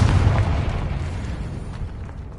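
Confringo fire spell explosion in Hogwarts Legacy on PS5, a single loud, close, booming blast with heavy low rumble that slowly tails off, no voices.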